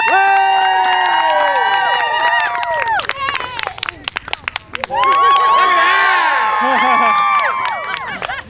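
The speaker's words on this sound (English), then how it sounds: "A round of applause for Colin of City News Weekly!" A jousting event crowd cheers and applauds, with whoops and shouted voices over scattered clapping, a loud, sustained burst that dips in the middle and swells again.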